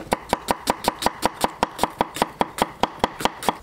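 Knife chopping green onion and celery on a cutting board in a kitchen, about twenty quick sharp evenly spaced cuts in a fast steady rhythm, close and crisp with no talking.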